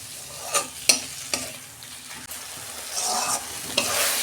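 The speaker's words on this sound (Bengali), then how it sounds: "এবার ভালো করে আমি কষাবো" Spice masala of coriander and cumin powder sautéing in oil for a dried fish (shutki) curry, with sharp spoon scrapes and clinks at irregular intervals over a steady close sizzle and no talking.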